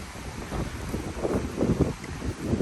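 Wind blows down off a slope at a historic colonial site, heard as a gusty, rumbling rush buffeting the microphone that swells and dips over a few seconds, with no voices.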